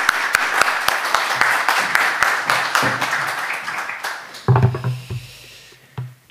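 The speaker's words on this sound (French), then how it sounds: "je propose, comme il se doit, qu'on applaudisse notre orateur" An audience at an evening talk applauds the speaker, a dense burst of clapping that thins out into scattered claps and fades, with brief low murmuring near the end.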